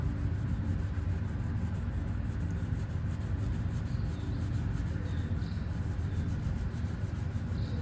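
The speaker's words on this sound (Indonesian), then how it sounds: "terus langsung digosok aja. Nih udah saya gosok nih, noda airnya atau noda sabunnya nih, kerak-keraknya keangkat semua." Soap and water stains are scrubbed off a granite wall, giving a continuous close rubbing and scouring sound at a steady, moderate level with no pauses. No one speaks.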